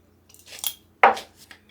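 A spoon measures out a tablespoon of cumin and tips it into a dish being mixed with chili powder, giving a few faint clinks followed by one sharper metallic tap against the container, with no voices.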